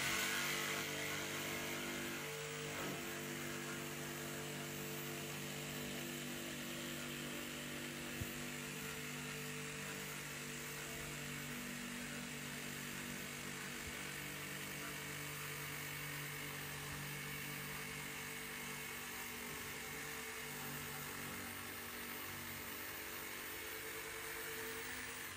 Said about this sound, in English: with a little help from our multi-tool, go in and just finish off that last little corner